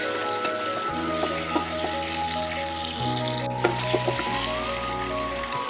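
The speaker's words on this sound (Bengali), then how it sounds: "পেঁয়াজটা ভালো করে ভেজে নেবো" Chopped onions frying in oil with a spoon of salt for vegetable chicken fried rice, a steady close sizzle with stirring scrapes and light clinks of a spatula against the pan, with no talking.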